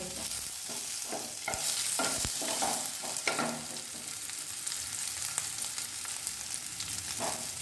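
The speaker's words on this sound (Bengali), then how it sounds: "সেদ্ধ আলুগুলো আমি টুকরো টুকরো করে ফ্রাই প্যানে দিয়ে দিয়েছি এই তেলের সাথে।" Boiled potato pieces frying in oil in a frying pan, a soft steady sizzle broken by scraping and stirring strokes of a utensil against the pan, close and fairly quiet.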